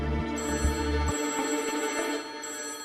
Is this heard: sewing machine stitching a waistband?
no